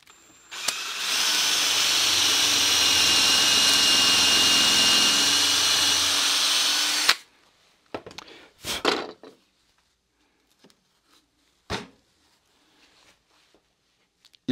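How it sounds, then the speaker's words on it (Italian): A power drill whines steadily into wood through a Wolfcraft doweling jig for several seconds, then stops; a few clunks and taps of handling follow in near silence. "Trovata la posizione, si prende il nostro bel trapano"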